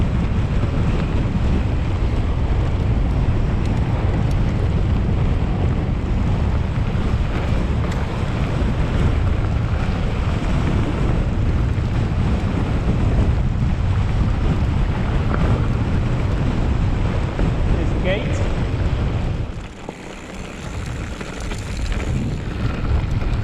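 Strong wind roars steadily over a cyclist riding fast downhill through countryside, a constant buffeting rush that briefly dips near the end before building again.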